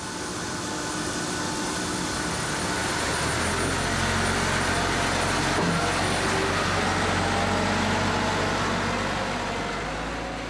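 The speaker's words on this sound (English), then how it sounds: "the pushback of the aircraft can at last get underway" An airliner is pushed back from its stand at Bristol Airport, a loud continuous engine roar and rumble that swells and holds steady at close range for the full stretch, with no speech.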